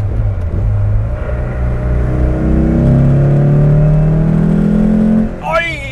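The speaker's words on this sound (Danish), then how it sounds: "den alt vibrerer, så har man den der indsugningslyd der" Porsche 993 Turbo S or 964 Turbo engine revving with loud intake roar, heard from inside the car: a deep droning rise in pitch that climbs and holds, then drops off abruptly near the end, dominating the whole clip.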